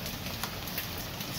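Hail falling on a garden in a severe thunderstorm, a dense steady patter of hard strikes filling the air with no pauses and no voices.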